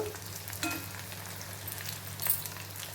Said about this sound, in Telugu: ఇప్పుడు ఇట్లా మనం కదుపుకోవాలి కొంతసేపు వేగనిద్దాము